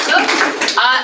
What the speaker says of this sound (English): We will please give them a loud round of applause at the end.